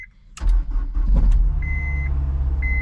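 A car that has been sitting unused cranks and catches with a loud burst, then settles into a steady low idle, while a chime from inside the cabin beeps on and off.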